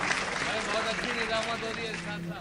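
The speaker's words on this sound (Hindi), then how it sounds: "आप जोरदार तालियों से इस्तकबाल कीजिएगा" Audience applause welcoming a poet at a mushaira held in a Bhiwandi cinema hall, a dense, steady burst of clapping mixed with voices.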